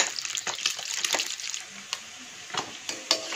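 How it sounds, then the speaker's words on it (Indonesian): Food fries briefly in a pan with a steady crackling sizzle and scattered sharp pops, at moderate loudness and close by, without speech. "Jadi kita goreng agak sekilas."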